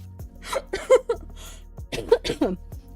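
Several harsh coughs come in two bursts, close and fairly loud, with short pauses between.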